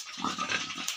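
A Duroc pig on a pig farm gives short snorting grunts close by, a few bursts across a second, with a voice speaking over them.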